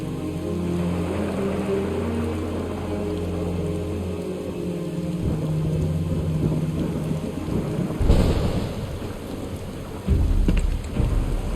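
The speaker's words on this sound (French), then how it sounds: "Il pleut des cordes." Heavy rain pours steadily in a Final Fantasy VII game scene, with low rolling thunder rumbling beneath it and a couple of louder cracks of thunder toward the end.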